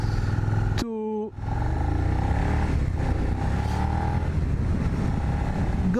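A lightweight, narrow Suzuki SV 650X motorcycle on a ride, its engine holding a steady, loud drone with wind rush throughout, broken briefly near the start by a short rising electronic tone.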